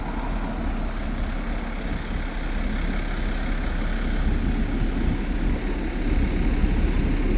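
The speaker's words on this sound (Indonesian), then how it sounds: "bus ini tuh bus ke bandara Hong Kong International Airport, dan busnya juga tuh lewat di sini" A red and yellow bus bound for Hong Kong International Airport drives past on a Hong Kong street, its engine a steady, loud, dense rumble that swells slightly toward the end, with no one talking.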